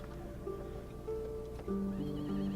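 Horse neighing, with a drawn-out whinny rising over a steady low background and faint hoof clip-clops, moderately close.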